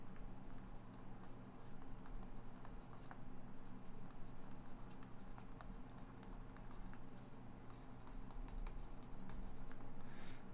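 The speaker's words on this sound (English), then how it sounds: "I'll write it up here" Marker or chalk scratches and taps on a classroom board during a physics lesson on generators, a faint, irregular run of short strokes and ticks over a low room hum, with no talking.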